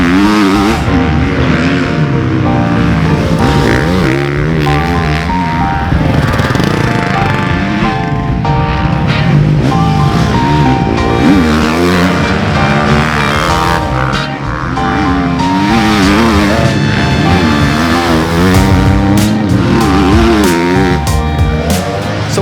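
A 2024 GasGas MC350F four-stroke motocross bike being ridden hard, its engine roaring steadily and loudly with constant revving and throttle changes for the whole stretch, with no voices.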